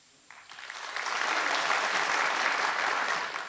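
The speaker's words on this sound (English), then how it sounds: "When I point this at the audience, it makes them all clap" An audience on a 1977 BBC comedy show bursts into applause, starting quietly, swelling to a full, sustained round of clapping and holding steady to the end with no voices over it.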